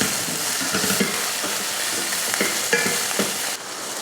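Tomato with onion, garlic and ginger sautéing in a pan, giving a steady close sizzle broken by repeated stirring scrapes and spoon taps through the whole stretch, with no talking.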